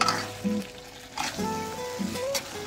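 Spicy fish binagoongan with oyster sauce stirred in a pan, gentle sizzling with short scraping and clinking strokes of a spoon against the pan, close and fairly quiet.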